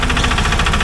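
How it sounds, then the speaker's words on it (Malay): A Kubota engine, normally used for rice paddies, runs an itak modified to carry tourists. It chugs close and loud with a steady, rapid knocking pulse and no break. "Itak ni adalah enjin Kubota yang selalunya digunakan untuk sawah padi, tapi telah diubah suai untuk digunakan sebagai pengangkutan untuk pelancong."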